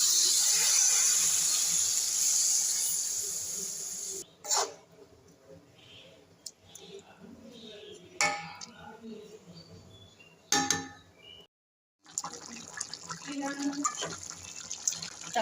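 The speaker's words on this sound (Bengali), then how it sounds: "আমি এবার জল দিয়ে দেবো।" Plain water poured into a pot of chicken and potatoes being cooked with spices, a steady splashing pour for about four seconds, followed by quieter clinks and stirring sounds under a woman's speech.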